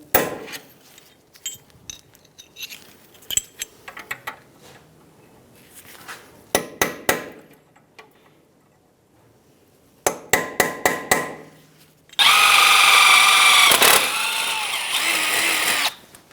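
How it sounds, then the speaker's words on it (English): Sharp metallic hammer blows ring out against a steering knuckle to pop the ball joint out on a 2010-2014 Subaru Outback, in quick clusters with pauses between, followed by a loud, sustained power tool whine. "Using a hammer, we're going to hit the side of the knuckle and pop the ball joint out."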